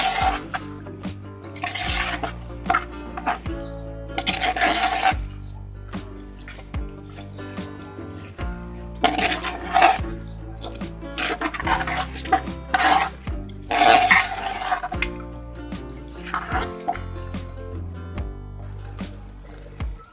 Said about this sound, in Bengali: এগুলো এখন একসাথে ভালো করে মিশিয়ে নিব।